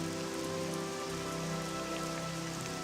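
Steady rainfall in the video game Tamriel Rebuilt, a soft even patter on surfaces throughout. A low, sustained ambient hum lies beneath it.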